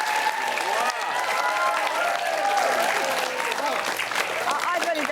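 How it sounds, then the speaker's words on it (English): Studio audience applause on a cooking show, a sustained burst of clapping with voices talking and exclaiming over it throughout. "a round of applause, ladies and gentlemen"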